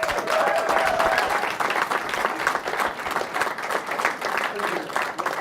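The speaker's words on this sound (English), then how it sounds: "Ladies and gentlemen, please give a warm round of applause to Jay Allen" A crowd applauds warmly, a dense, steady wash of clapping that holds at full strength throughout.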